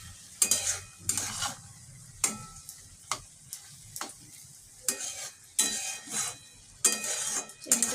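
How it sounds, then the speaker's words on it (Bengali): Sugar being stirred into carrot halwa (gajar ka halwa) in a pan, with several distinct scraping strokes of a spoon against the pot over a soft low sizzle, close up, no talk. "চিনিটা ভালো করে মিশিয়ে নিতে হবে।"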